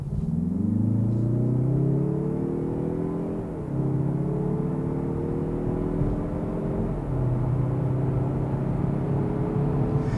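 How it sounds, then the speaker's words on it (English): A 2024 Mazda3 Turbo hatchback accelerates hard in sport mode through several gears, its engine note climbing in pitch, dropping briefly at each shift, then rising again, heard steadily from inside the cabin with no talking. "I like that the engine of this sounds pretty good as well"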